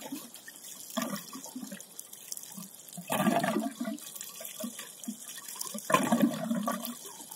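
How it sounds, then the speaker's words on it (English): Water gushes and splashes in bursts through the outlet valve of a homemade free energy water pump rig with a tank. Three surges of flow stand out over a steady background trickle, with no talking. "now once I open the outlet valve, water should start flowing"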